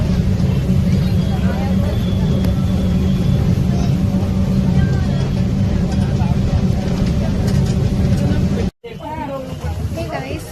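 Steady loud engine drone and road rumble fill the interior of a moving bus, with a babble of passenger voices underneath, continuous for about nine seconds before a brief dropout and a slightly different, noisier stretch.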